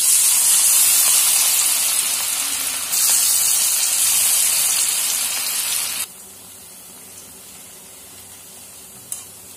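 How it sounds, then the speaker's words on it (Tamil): Potato pieces deep-frying in hot oil, a loud, steady, dense sizzle and hiss that drops in level partway through and carries on without any talking. "நம்ம இப்போ ஆயில போட்டு பொரிச்சு எடுத்துக்கலாம்."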